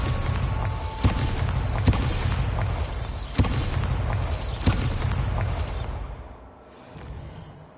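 Bombarda blasting spell explosions in a video game: four sharp, heavy booms spaced a second or so apart over a rumbling bed of noise, fading toward the end.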